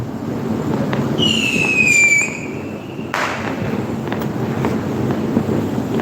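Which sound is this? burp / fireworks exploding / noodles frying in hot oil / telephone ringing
fireworks exploding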